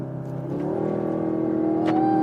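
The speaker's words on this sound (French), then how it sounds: "Utilisons le contrôle de lancement." A 2024 Audi S3 launches hard under launch control, its engine rising in a steady loud rev with the pitch climbing and a brief gear-change blip near the end, with no talk.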